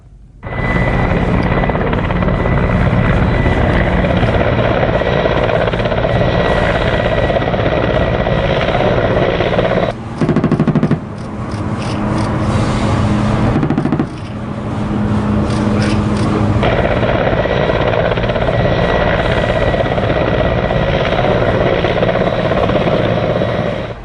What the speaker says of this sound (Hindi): हिंदुस्तान के आसमान में उड़ रहे इन फाइटर हेलीकॉप्टर का निशाना अचूक है।